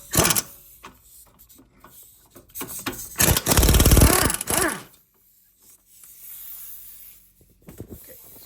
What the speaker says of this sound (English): So I'm going to take this out with a 17mm socket. Will undo this.